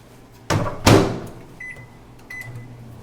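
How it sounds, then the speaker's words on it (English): A microwave oven door thuds shut with a rattle, a couple of short electronic beeps follow, and then a low appliance hum starts up. "microwave this for about 60 seconds"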